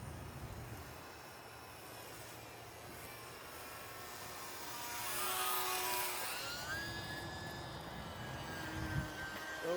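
Small Carbon Cub UMX RC model airplane making a low flat pass, its faint electric motor whine rising and falling in pitch as it approaches and moves away, against outdoor background noise.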